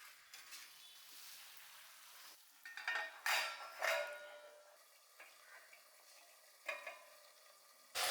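Chicken biryani masala sautéed in a pot, with quiet, scattered scrapes and stirs over a faint sizzle and a few louder stirring bursts midway, no talking.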